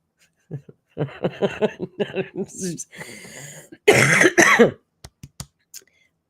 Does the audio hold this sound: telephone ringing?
no